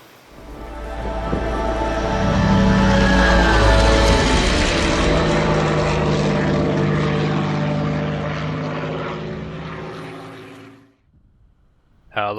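Aermacchi MB-339 jet in Microsoft Flight Simulator, a loud sustained engine roar with layered whining tones and mechanical rattle that holds steady, then cuts off abruptly near the end, no voices.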